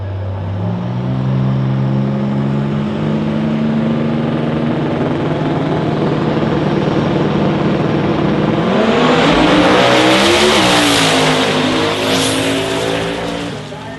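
An orange Mustang drag car launching in an X-275 drag racing shootout, its engine roaring loud and rising as the rear tires spin and squeal under heavy torque, with crowd noise and a commentator under it.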